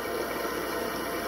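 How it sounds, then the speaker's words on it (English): Water rushes steadily into a toilet tank after the supply valve is opened, a continuous broadband hiss of filling liquid that holds an even level throughout with no voices. "I'm going to turn the water onto the toilet."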